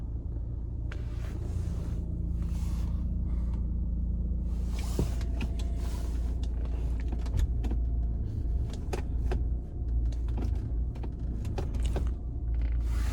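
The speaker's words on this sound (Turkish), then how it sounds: "Şu aracı çalıştırayım. Gayet sırasız bir şekilde çalışıyor." A BMW F10 520d diesel sedan idling after starting, a steady low engine rumble with intermittent mechanical clicks and higher whirring bursts throughout, heard close and without speech.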